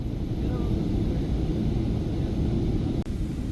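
Steady, loud cabin roar inside a Philippine Airlines Boeing 777-300ER airliner descending toward Suvarnabhumi Airport over the Gulf of Thailand, a constant deep engine and airflow rumble with one brief dip near the end.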